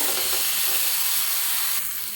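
Chopped vegetables fry in a pan for a Maggi omelette, giving a steady, close sizzle with faint stirring scrapes that eases slightly near the end.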